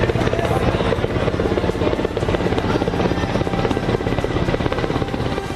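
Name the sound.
Indian Army Mi-17 helicopter flying overhead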